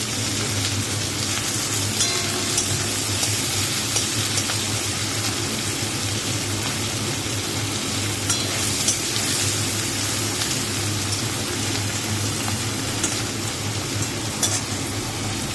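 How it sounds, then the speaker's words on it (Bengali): Eggs fry in hot oil in a pan for a special egg dish, a loud continuous crackling sizzle that holds steady and close throughout, no voices. "দেখো এটা ভাজা হোক,"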